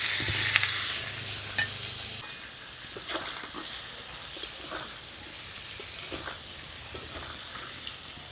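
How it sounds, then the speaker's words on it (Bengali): Paneer cubes fry in white oil and butter in a wok, a steady close sizzle with occasional scraping and clinks of stirring, and no one talking. "প্রথমে পনিরগুলোকে একটু ভেজে নেব।"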